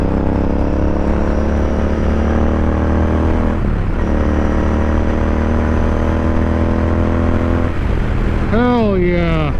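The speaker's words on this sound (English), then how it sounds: "Since my exhaust install, it's very loud. It's so loud." Royal Enfield Continental GT motorcycle fitted with a loud aftermarket exhaust, a steady close engine drone that dips briefly twice, then revs rise in a quick series of climbs near the end.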